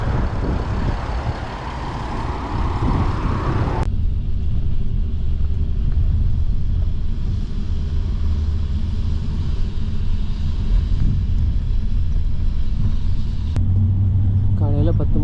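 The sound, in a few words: bus engine rumbling on the road in Georgia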